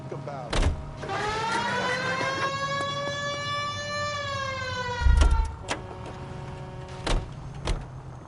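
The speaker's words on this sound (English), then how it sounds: "I think we need a siren." Police car siren in the L.A. Noire video game wails in long rising and falling sweeps, loud and close, with thumps and clunks at the start and near the end.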